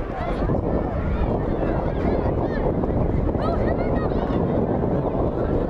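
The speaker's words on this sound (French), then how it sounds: "il y a le vent qui souffle toujours" Strong wind buffets the microphone at an outdoor youth football tournament pitch, a constant rough roar throughout, with someone talking over it.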